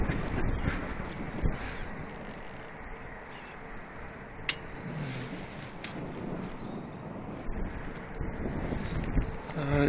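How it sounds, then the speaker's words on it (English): Gusty wind roars steadily across the microphone outdoors at Manchester Airport, with a few crow caws breaking through the broad rushing noise. "The wind is picking up quite a bit."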